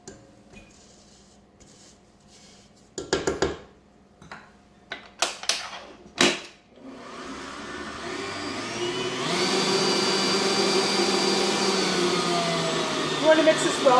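An electric hand mixer beats butter and sugar in a bowl for cherry or blueberry muffin batter. A few clattering knocks come first, then a steady mid-loud motor whir builds and holds until the end.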